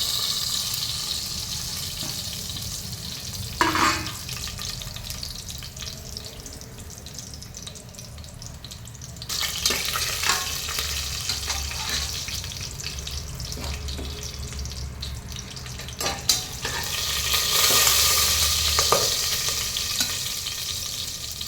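Whole spices such as cinnamon, fennel, cumin, cloves and pepper sizzling in hot oil for homemade biryani, a loud continuous frying hiss with occasional clinks and a brief running-water swell near the end, no talking.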